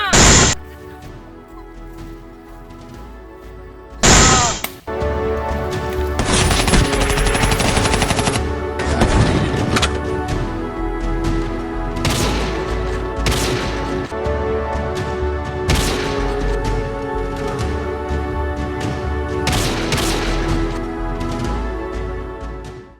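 Loud sustained gunfire from a school history drama battle scene, dense rapid bursts like machine-gun fire over a harsh, saturated background with a few sharp blasts early on.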